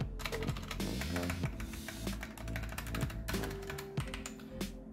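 Steady clacky typing on a Ziyoulang K3 98-key mechanical keyboard with red switches, the long stabilized keycaps adding a deeper, dampened click; rapid close keystrokes run continuously with no talking.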